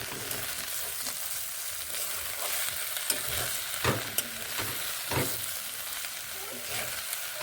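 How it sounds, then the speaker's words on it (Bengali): Onion stalks (spring onion shoots) frying in a pan with Maggi masala, stirred repeatedly: a steady broadband sizzle runs throughout, punctuated by scraping strokes of the spatula at irregular intervals, close and alone without talk. "ম্যাগি মশলা দিয়ে এইভাবে নেড়ে আরও একটু ভেজে নিচ্ছি"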